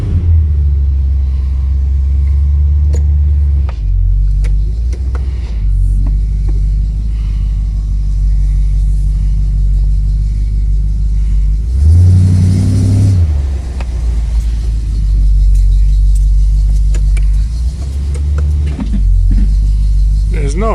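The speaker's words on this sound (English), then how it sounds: "going to do some brake tests now." A refurbished 1976 Corvette drives during brake tests, its engine a steady loud rumble throughout, with a brief surge of louder revving midway before settling back into a constant low drone.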